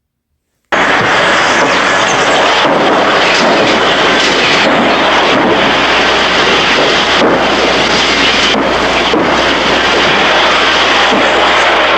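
A helicopter flies overhead, and its engine and rotor make a loud, steady roar that starts abruptly after a moment of silence and continues throughout, with slight pulsing and no voices.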